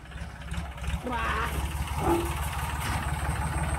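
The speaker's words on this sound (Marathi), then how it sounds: "मी ट्रॅक्टर घेतो पुढं" A low tractor engine rumbles steadily throughout, idling with a rhythmic chug, while faint voices and other noises come and go above it.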